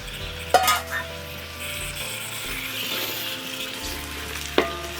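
Two kilograms of chicken frying and being stirred with masala in a pot for Andhra-style Raju gari kodi pulao: steady close sizzle with a few sharp scrapes and clanks of the spoon against the pot, no talk.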